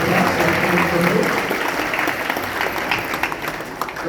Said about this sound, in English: We can do a big round of applause for Prabhu.